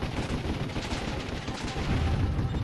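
Gunfire rattles in the real-time strategy video game Warzone 2100, a dense, continuous stream of overlapping shots and blasts filling the whole stretch at a steady, fairly loud level.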